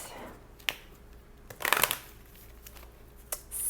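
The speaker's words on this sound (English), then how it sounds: "So I'm just being guided to shuffle it one more time." Tarot cards being shuffled close up, a few sharp taps and snaps followed by a quick riffling burst, with a bit of quiet background noise.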